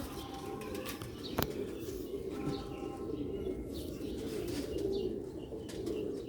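Grey pigeons kept for sale coo in low, soft, repeated calls over a constant ambient rumble, with a single sharp click near the start and occasional faint chirps.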